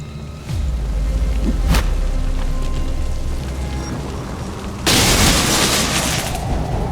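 An explosion goes off in the X-COM video game. A low boom opens it, a sharp crack follows, then a rumbling roar. A second loud blast bursts in near the end and rolls on to the close.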